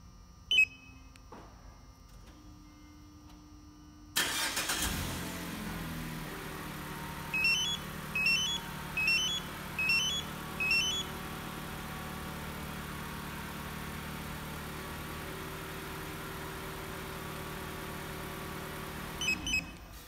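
A 2013 Mazda CX-5 started by a Compustar 901 two-way LCD remote starter: faint beeps, then the engine cranks and catches, settling into a steady idle while a short series of chirps sounds over it and more beeps come near the end.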